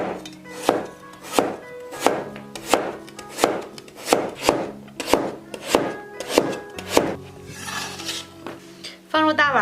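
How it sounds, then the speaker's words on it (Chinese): A knife chops a washed white radish into thin slices on a board, with about a dozen sharp, evenly spaced knocks and a short scrape at the end. "切成薄片儿"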